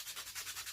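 Wood is hand-sanded for a Leisure 20 sailboat repair. The rubbing strokes are short, quick and rhythmic, about six or seven in under a second, and faint and close by.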